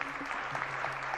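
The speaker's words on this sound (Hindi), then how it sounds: "जरा तालियां बजा दीजिएगा।" A dense burst of audience clapping fills a spiritual gathering, continuous and fairly close, with no pauses.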